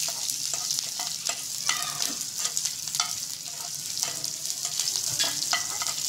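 Green chillies roast in a pan for fasting chiwda, a steady sizzle under repeated scraping stirs of a spatula, close and without talk.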